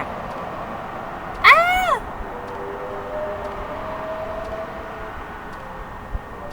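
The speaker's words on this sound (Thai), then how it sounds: "เจ้าแมว" A cat meows in the horror video game Tsugunohi, a single drawn-out, wavering meow that rises and falls, clear and fairly close over a quiet ambient hum.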